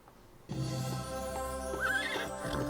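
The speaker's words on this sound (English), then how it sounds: "Horse!" A cartoon horse in the animated series She-Ra and the Princesses of Power gives a loud, clear neigh, a rising and falling whinny over a steady musical background.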